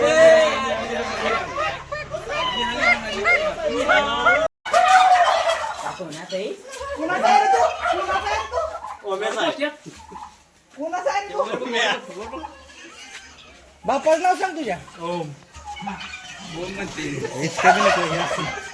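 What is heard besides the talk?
chickens and ducks in a college poultry farm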